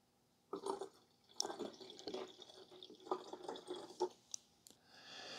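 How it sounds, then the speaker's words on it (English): Cleaning formula poured into the tank of a Bissell Little Green ProHeat Pet carpet spot cleaner, quiet liquid splashing and trickling in uneven bursts with light plastic handling sounds. "Now we're going to go from the water line to that line with formula."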